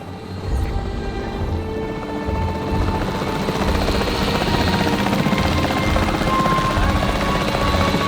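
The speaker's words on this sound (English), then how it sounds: "The priority needs to be tranquilizing it with the capture team chopper." Capture team helicopter flying in the game Jurassic World Evolution 3, a loud steady rotor thump and engine drone that starts abruptly and holds throughout.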